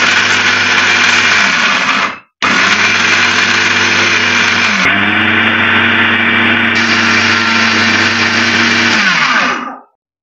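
A kitchen mixer grinder crushes roasted dried red chillies for a village-style coriander pickle. Its motor gives a loud, steady whirring drone in two runs split by a short stop near the start, then winds down at the end.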